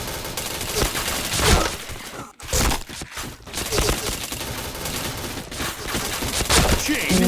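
Gunfire from a shooting video game comes as dense, loud rapid bursts and fusillades with brief gaps, mixed under excited talking throughout.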